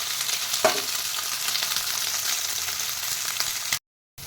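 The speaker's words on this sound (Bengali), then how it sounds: "এবার এই তেলে আমি সোয়াবিনগুলোকে ভেজে নিচ্ছি।" Soybean chunks frying in hot oil give a steady, close crackling sizzle with a brief clatter near the start, then a sudden cut to silence just before the end.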